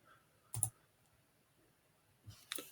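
Two crisp computer mouse clicks about two seconds apart while a cell is selected in an Excel spreadsheet, close and fairly quiet over a faint room hush.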